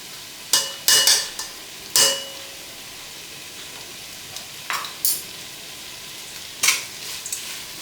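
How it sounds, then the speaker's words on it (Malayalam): Two tablespoons of ghee in a pan with Kerala tomato rice (thakkali choru) as it is stirred: a soft steady sizzle, broken by a few sharp spoon scrapes and clanks against the pan. "2 ടേബിൾ സ്പൂൺ നെയ്യ് ഇട്ട് കൊടുക്കാം."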